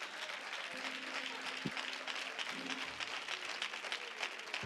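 A congregation claps during an evening church sermon, producing a steady, fairly quiet wash of hands clapping, with a faint sustained musical tone beneath it.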